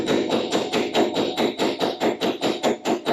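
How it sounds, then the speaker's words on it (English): A car battery terminal is hammered onto its post during a carburetor swap: a rapid, even run of a dozen or so sharp metallic blows, close and loud. "Remember, the best way is to hammer it on."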